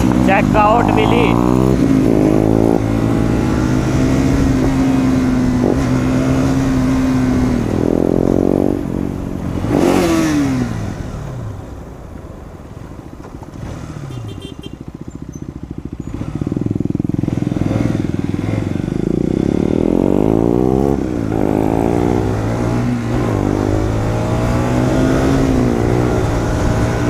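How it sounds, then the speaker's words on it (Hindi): A KTM Duke 390 motorcycle on a race track revs hard, its engine pitch sweeping up and down as it passes close by, loud throughout, with voices at times over the engine. "अपनी जो 390 का काफी जबरदस्त साउंड है"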